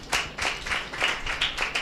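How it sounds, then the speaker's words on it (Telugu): A church congregation claps hands together in a steady rhythmic beat, about ten crisp claps in quick succession, moderately loud, without any voices. "చప్పట్లు కొట్టండి."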